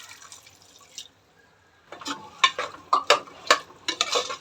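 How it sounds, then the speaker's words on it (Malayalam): Water rinsed from a mixer jar is poured into a simmering paneer mutter curry: a faint trickle, a short pause, then splashing and bubbling spurts close by, with no voices. "അത് കഴുകി ഇച്ചിരി വെള്ളം ഇതിലോട്ട് ഒഴിക്കുന്നുണ്ട്"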